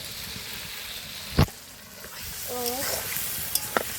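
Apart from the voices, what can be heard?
boiled potatoes and peas added to frying pan, sizzling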